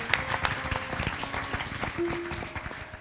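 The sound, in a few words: temple congregation applauding newcomers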